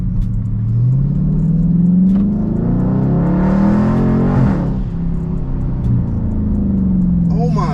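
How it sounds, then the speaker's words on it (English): A McLaren sports car accelerates past, its engine rising and falling in a loud, sweeping rumble heard from inside another car. Excited talk runs over the engine noise. "Look what this is passing by. That's that McLaren."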